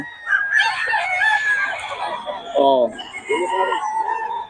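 Roosters at a gamefowl seller's place in Bocaue crow loudly nearby, one long rising crow followed by shorter clucks and calls, with someone talking over them.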